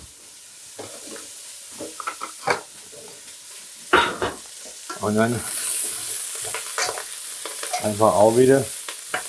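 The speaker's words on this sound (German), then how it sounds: "ein bisschen anbraten, dass die Röstaromen da sind" Meat rouladen sear in oil in a pan and are stirred, giving a steady sizzle and frying hiss with scraping stirs, while someone speaks German over it.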